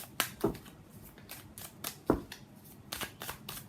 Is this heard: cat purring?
no